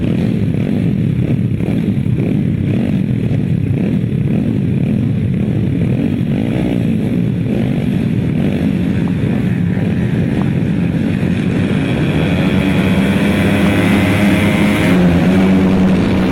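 GT140 class grass track racing motorcycles roar off the start of a heat, a loud sustained pack of revving engines. The pitches rise and waver as the bikes accelerate away, with no voices over them.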